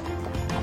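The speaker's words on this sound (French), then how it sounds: "Je suis sur un petit cheval." Small horse walking under a rider outdoors, hooves clip-clopping steadily at close range over a brief stretch, with a faint voice nearby.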